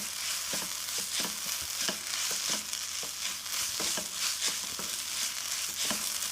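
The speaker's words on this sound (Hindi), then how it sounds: "और इसको अच्छे से मिक्स कर लेंगे।" Steady sizzling and scraping as breakfast ingredients are stirred together with chaat masala, dry mango powder and green coriander in a hot pan, with regular utensil clinks over a continuous fry hiss and no speech.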